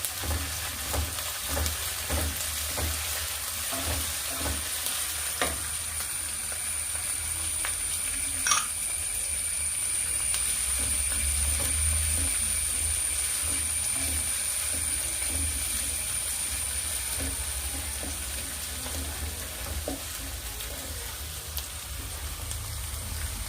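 Garlic and crushed ginger fry in hot oil for lime pickle, giving a steady, even sizzle throughout with occasional faint clinks and stirring sounds, and no talking.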